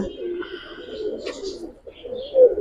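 Giribaz pigeons coo steadily in a loft, a continuous low rolling murmur of several birds close by that swells slightly near the end.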